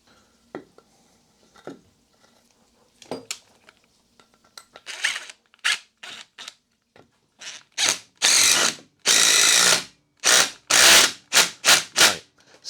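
A driver runs a concrete screw into masonry with a T27 bit, starting with scattered faint clicks, then building into loud, repeated grinding bursts of screwing, each lasting about half a second with short gaps between.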